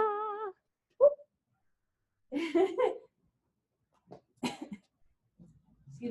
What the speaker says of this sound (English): Excuse me while I cough up a yarn lung.